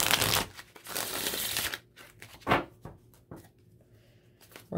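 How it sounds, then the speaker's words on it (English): Tarot cards being shuffled by hand, with a dense riffling rustle through the first two seconds followed by shorter, scattered card flicks and taps, close and fairly loud, with no one talking. "I want to shuffle these really well."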